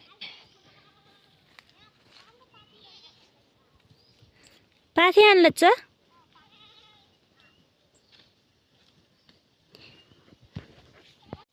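Goats bleat in one loud, wavering burst at close range, with people talking quietly before and after and light rustling and footsteps around them.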